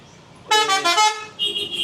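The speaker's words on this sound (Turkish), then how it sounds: "Burada korna sesi varmış." A loud, blaring car horn honks in a long blast followed by a shorter toot, close by amid street noise in Bali.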